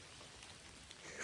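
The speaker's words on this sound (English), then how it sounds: "It's raining a little bit" Soft, steady hiss of light rain falling, faint and continuous, with no voices.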